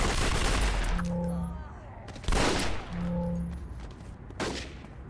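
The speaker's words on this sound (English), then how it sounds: "Fully lethal rockets." Rocket fire in the City of Heroes game, three loud whooshing blasts spaced about two seconds apart, each with a short tonal launch chirp, up close among game effects.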